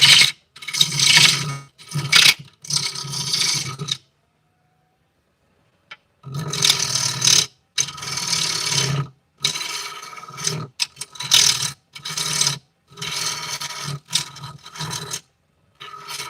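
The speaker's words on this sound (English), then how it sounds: "I'm gonna bring that bowl gouge in here in a second." A bowl gouge cuts into a spinning walnut and butternut bowl on a lathe, loud rasping scrapes in repeated bursts of a second or two, separated by short pauses and one longer silent gap.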